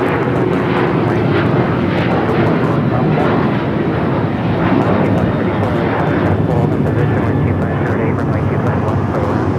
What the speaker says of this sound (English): That is United Airlines 1635 taking off to Washington Dulles on the 737-900 ER.